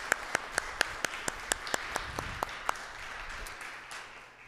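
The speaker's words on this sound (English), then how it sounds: "let's give a round of applause for her anyway and the Girl Scouts" About a dozen scattered, evenly spaced hand claps ring out in a quiet room at a Stratford Beautification Committee awards gathering, thinning out after a few seconds.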